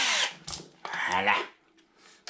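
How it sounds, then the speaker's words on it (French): A cordless power screwdriver drives a screw while an RC10T6.2 radio-controlled truck kit is assembled, giving short, close whirring bursts, with a voice speaking over part of it. "on va direct visser cette vis là"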